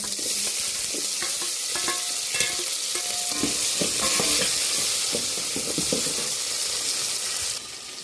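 Peanuts frying and being stirred in a pan, a steady loud sizzle with scraping stir strokes throughout, running continuously without talk.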